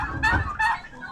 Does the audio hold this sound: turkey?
yes